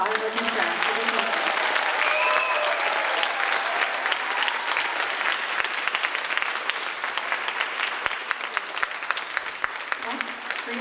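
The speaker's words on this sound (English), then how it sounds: "can we get a huge round of applause for the orchestra?" Loud, sustained applause from a large crowd for an orchestra at a Kuchipudi dance performance, clapping steadily for several seconds before tapering slightly, with some scattered voices and cheers underneath.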